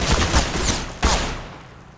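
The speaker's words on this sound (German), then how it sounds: "hör auf so rumzuschießen" Gunfire in a Star Wars roleplay video game: a rapid burst of blaster-like shots followed by a single loud crack that trails off, close and sharp, with no talking.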